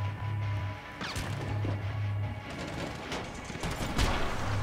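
Gunfire in GTA V Online, sharp impacts and crashing bursts scattered across the clip amid a low engine drone, fairly loud and close with no talk.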